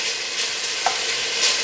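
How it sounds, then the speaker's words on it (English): Bacon frying in a pot for a Zuppa Toscana soup gives off a steady hiss and crackle, with a few brief pops on top of the sizzle. "So I'm gonna continue frying this up"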